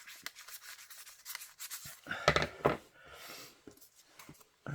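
Quiet, close scraping and snipping sounds of scissors working through paper, irregular short strokes with a few louder cuts in the middle.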